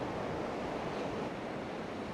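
Steady ocean surf rolls onto a flat sandy beach at Cambois, a continuous broad wash of breaking waves mixed with wind rumble, and no voices.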